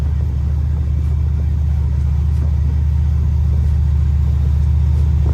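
A Ford Mustang cruising along at steady speed, its engine giving a continuous deep, even rumble with no pauses, heard from inside or close by.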